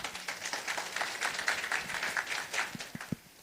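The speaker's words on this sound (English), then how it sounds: "can we have a round of applause for our speaker?" Scattered, moderate clapping from a conference audience for a speaker, uneven and thinning out, with a few louder individual claps near the end before it fades.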